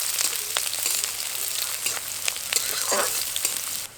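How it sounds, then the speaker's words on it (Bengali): Chopped onion frying in hot oil over tempered spices until browned, a steady dense sizzle with occasional stirring scrapes throughout, no voices. "পেঁয়াজটাকে এখন বাদামি করে ভেজে নেব।"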